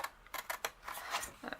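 Scissors cutting paper for an envelope punch board box, a few quick close snips in short bursts with a voice talking over them.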